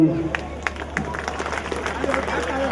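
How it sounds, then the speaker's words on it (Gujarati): A crowd applauds at a 2012 cultural programme staged by a Kadva Patidar youth group, with scattered claps and crowd noise running steadily under someone speaking into a microphone. "વારે ઘડીએ તાળીઓ વગાડજો, ઘડીએ ઘડીએ"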